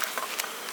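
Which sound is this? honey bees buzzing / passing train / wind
honey bees buzzing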